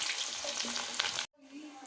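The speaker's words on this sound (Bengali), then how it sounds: "এবার পটল ভেজে নিচ্ছে, পটল ভাজার পর আলু ভেজে নেবে।" Pointed gourd fries in hot oil, a dense close sizzle that cuts out abruptly, then returns more faintly.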